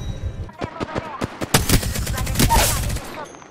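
Bursts of video-game gunfire from Apex Legends, first as separate sharp shots and then as a dense, loud volley with several weapons firing at once, heard close over the background of the match.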